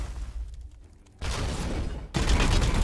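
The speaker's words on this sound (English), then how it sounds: "Firing on target." Gunfire from the Warhammer 40000: Chaos Gate - Daemonhunters video game comes in two sharp, loud bursts of volley fire, each starting suddenly after a quieter lull.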